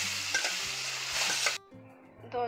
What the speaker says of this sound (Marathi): मसाला तेल सुटेपर्यंत परतून घेतलेला आहे, ह्याच्यात आता आपण जो कट काढून घेतलेला आहे तो घालायचा आहे।